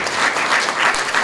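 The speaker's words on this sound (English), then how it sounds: "I want to have a big round of applause for our panelists." An audience at an evening panel of LGBTQ+ professionals discussing work applauds its panelists with dense, loud, steady clapping that fills the whole short stretch.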